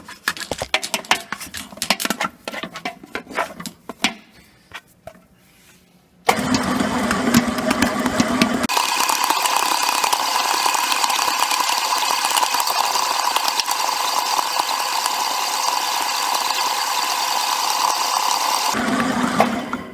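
A stand mixer with a dough hook kneads sweet roll bread dough for a baking practical exam, starting after a few seconds of scraping clatter and running as a loud, steady mechanical whir for about twelve seconds before stopping.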